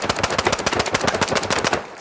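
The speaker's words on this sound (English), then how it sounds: "with rapid trigger off, you can hear each shot fired" Rapid video game gunfire with each shot distinct, about fifteen sharp, loud reports in quick even succession, played while testing a Hall effect gaming keyboard with rapid trigger turned off.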